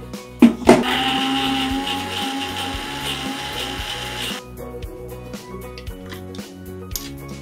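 A mixer grinder whirs loudly, grinding chutney of garlic, green chili and salt for about four seconds before cutting off abruptly, leaving quiet background music.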